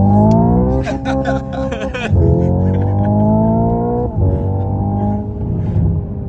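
Hyundai Ioniq 5 N electric car producing a simulated rally-style petrol engine note while drifting, a loud harmonic drone that rises and drops with gear-like shifts and pauses, close and continuous.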